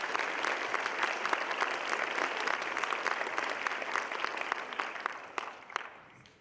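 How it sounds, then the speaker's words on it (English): An audience at a Yukon High School spring concert applauds loudly and densely, a sustained wash of clapping that thins and fades in the final second. "If you can give them a huge round of applause."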